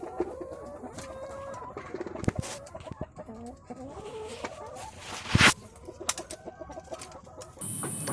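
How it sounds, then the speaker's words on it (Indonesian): Laying hens in a semi-free-range coop clucking and calling over several seconds, overlapping soft cackles near and farther off, with one sharp louder squawk midway. "Dan ayam-ayam ini tetap saja enjoy ketika bertelur dan sesudah bertelur."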